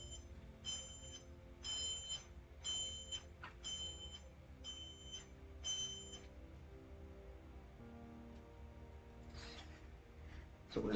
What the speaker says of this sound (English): Okay, some sort of fire alarm.